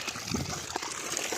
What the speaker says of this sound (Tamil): அங்கேயும் ஃபுல்லாக தண்ணி வருது.